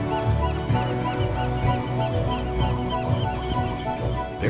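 Flocks of migrating birds calling over the Great Plains in autumn, geese-like honking and fowl cries overlapping steadily throughout, fairly loud and dense with no talk.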